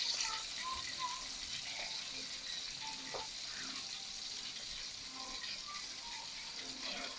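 White fish full of roe frying in oil in a pan, a steady dense sizzle and crackle with occasional pops, continuous and close, with faint talk now and then in the background.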